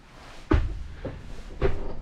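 Rear barn doors of a 2017 GMC van being worked, with a heavy thud followed by a softer knock and a second loud thump, close by with no talk.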